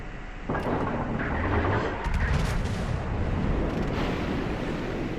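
Japanese battleship Hyuga in World of Warships fires its main guns, a deep booming salvo that rolls into a long rumbling tail, followed by further muffled blasts in the battle's ambience.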